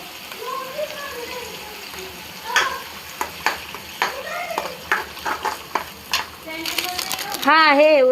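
Pav bhaji vegetables stirred and frying in a pan give a steady sizzle broken by a run of sharp scraping knocks from the spoon, with a voice talking over the cooking.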